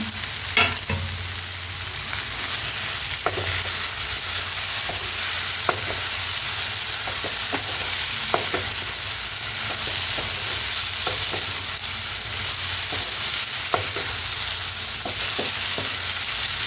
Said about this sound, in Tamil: அதை சேர்த்துட்டு ஒரு நிமிஷம் வந்து வதக்கி விடுங்க